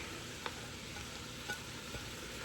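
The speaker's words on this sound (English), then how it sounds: "I've got the stove on 3/4 heat, and I'm going to add carrots, fennel, leeks, and celery." Chopped carrots, fennel, leeks and celery sizzle and fry in a hot pot on the stove for a shellfish bisque, a constant close hiss broken by a few faint clinks and stirring taps, with no talk.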